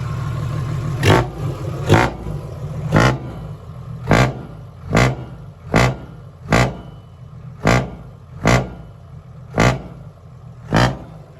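A tractor engine is revved in about ten sharp, evenly spaced bursts over a low idling rumble, loud and close.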